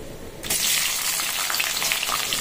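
Chopped onion drops into hot oil and sets off a sudden loud burst of sizzling about half a second in, which then holds as a dense, crackling fry.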